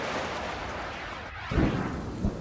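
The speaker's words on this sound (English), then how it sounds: "The storm that swept through Brisbane, concentrating itself on Wollongabba and on the cricket ground." A thunderstorm over the Gabba cricket ground in Brisbane, with a dense, steady roar of heavy rain and a deep rumble of thunder swelling near the end, loud and continuous with no voices.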